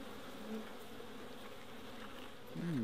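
Honey bees buzzing at an opened hive during a brood box inspection, a dense steady hum close by, faint and continuous with a slight swell near the end.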